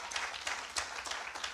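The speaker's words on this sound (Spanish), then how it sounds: "dele palmas al Señor" A church congregation claps its hands at a sermon, a brief burst of scattered, fairly close hand claps with uneven rhythm.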